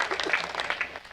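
A brief burst of scattered audience clapping at a kavi sammelan, fairly close, with a few quick hand claps over about a second.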